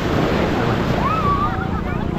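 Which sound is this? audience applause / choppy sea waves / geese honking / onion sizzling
choppy sea waves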